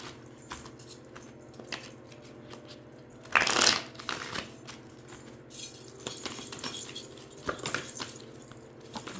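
Tarot cards being shuffled close by, with soft riffling and shuffling bursts, one louder flurry midway and quieter card handling around it, and no talking.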